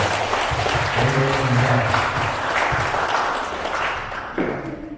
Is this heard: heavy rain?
no